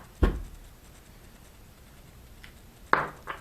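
A wire is snipped for battery soldering, two or three sharp close clicks of the cutters against a quiet background.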